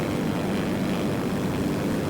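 A propeller airplane's engine drones steadily and loudly as it takes off from a runway in the flight-simulation game Simple Planes, with no other sound over it.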